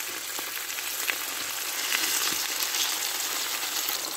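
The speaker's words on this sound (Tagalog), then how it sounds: "Ayan guys, naglagay na ako ng cooking oil. Tapos ito na yung ating pork." Pork fries in hot cooking oil in a pan, giving a soft, steady sizzle with small crackling pops and no talk.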